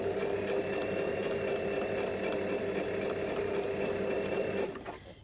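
A sewing machine stitches backward through a crocheted pouch, its needle chattering in a fast, regular rhythm close by before it stops abruptly at the end.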